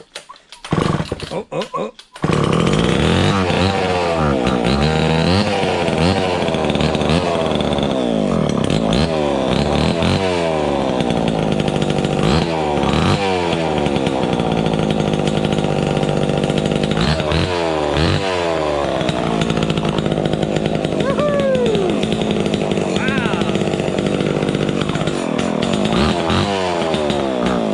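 A vintage Homelite XL12 chainsaw starts after a few pulls and runs loud and close, its engine buzzing continuously with repeated revving rises and falls, while a person exclaims over it.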